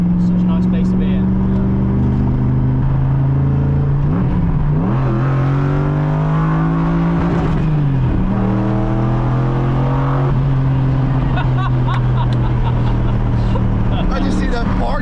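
A BMW E36 car driving with a loud steady engine drone inside the cabin, pitch rising and dropping through gear changes, while people talk over it.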